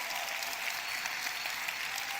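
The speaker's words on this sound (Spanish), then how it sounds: "dale un aplauso más fuerte al Señor" A church congregation applauds steadily, a dense sustained clapping filling the whole stretch with no voices rising above it.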